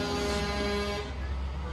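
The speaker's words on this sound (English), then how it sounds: "here comes the log truck" A heavy log truck rumbles past close by at a truck show light parade with a brief loud horn blast, engine noise fading as it goes.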